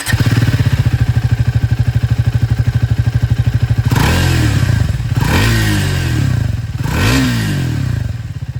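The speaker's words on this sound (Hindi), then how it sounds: "अब मैं आप लोगों को यहाँ पर ट्रायम्फ स्पीड 400 की जो आवाज़ है ये भी सुना देता हूँ।" Triumph Speed 400 motorcycle idling with a steady, loud, close thumping exhaust pulse, then revved sharply several times, each blip rising and dropping away.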